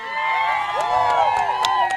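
Crowd cheering at a cricket league prize-giving ceremony, a dense mass of overlapping raised voices and whoops, loud and continuous throughout with a few sharp claps or shouts poking through.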